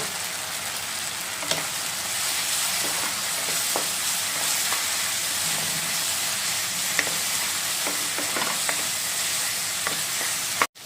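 Rohu fish frying with turmeric powder in a pan for a Bengali mustard fish curry, a steady close sizzle running throughout with scattered scraping clicks of stirring.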